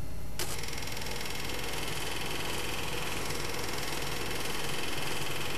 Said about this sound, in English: Turn the compressor on.